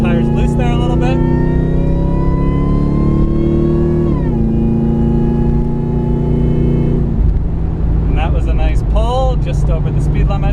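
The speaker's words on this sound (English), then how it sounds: "you can really hear the supercharger whine" A supercharged Saleen XP8 revs loudly with a sustained tonal engine drone and supercharger whine, holding pitch, then dipping and falling away to a lower steady tone.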